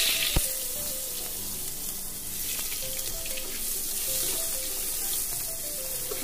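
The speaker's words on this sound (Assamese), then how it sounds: "তাৰপিছত মই পিঁয়াজখিনি ভাজি ল'ম।" Onions frying in a pan of hot oil after cashews for pulao, giving a constant close sizzle with a soft hiss and faint bubbling, an occasional light clink near the start, no voices.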